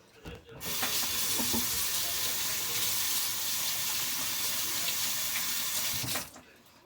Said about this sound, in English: let me wash up real quick